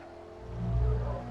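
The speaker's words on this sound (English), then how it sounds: "Last corner now, braking at about 100 metres" A race car in Assetto Corsa at Bathurst brakes hard and drops down to second gear for the final corner, a steady loud engine drone that swells in low rumble as it slows.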